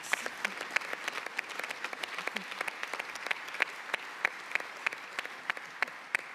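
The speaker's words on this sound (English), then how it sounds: "that deserves a round of applause" Applause from the audience at the 2023 U.S. Soccer Annual General Meeting, a steady mid-level wash of clapping with scattered sharper individual claps standing out throughout, no voices over it.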